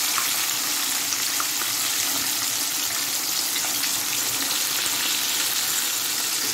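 Tilapia fish frying in oil in a pan, giving a steady, loud, continuous sizzle that holds unchanged throughout with no pauses.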